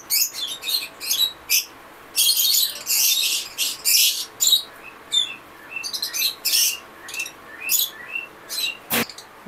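Fischer's lovebirds, including a violet mutation, and cockatiels chirp in a cage setting, dense bursts of high, close, lively tweets and squawks coming in rapid overlapping clusters, with no talking.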